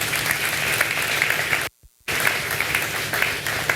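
An audience at a talk by Riley Gaines applauds steadily, a dense wash of clapping that breaks off for a split second and then carries on at full strength.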